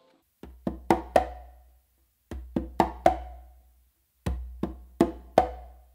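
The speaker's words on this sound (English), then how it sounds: "what you're going to do with your non-dominant hand, you're going to do a bass finger on the conga," Hand strikes on two congas in a songo pattern mix a muted bass-finger touch with crisp close slaps, played in three short repeated bursts of four or five sharp hits each, close-miked and alone.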